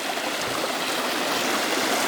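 A waterfall in the bush rushes with a steady, dense roar of falling water, close and continuous without pause or voices.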